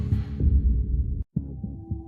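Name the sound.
heartbeat sound effect in horror short film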